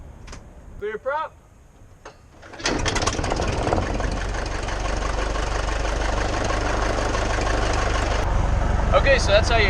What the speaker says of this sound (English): We're going to let the engine warm up a little bit here